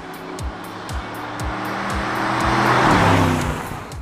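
An Audi RS6 C7 with its factory exhaust drives along a mountain road, its engine note rumbling steadily in the low range with a rhythmic thumping pulse and wind rush that swells midway.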